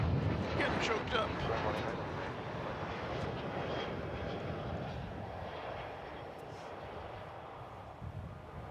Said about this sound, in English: American Flight 2357 from Denver was what that was, an Airbus A321.